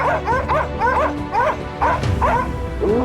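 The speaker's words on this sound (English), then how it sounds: "the hunting dogs barked sharply." Hunting dogs at a forest edge bark sharply in quick repeated yips and bow-wows, several voices overlapping close by with a steady run of barking throughout.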